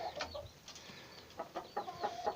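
A young rooster clucks softly in a farmyard pen, a few short, faint calls scattered over quiet background, fairly close.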